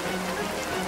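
In a cartoon forest, steady rain falls in a dense, even hiss of drops hitting the ground. It stays constant through the brief moment and no voice is heard.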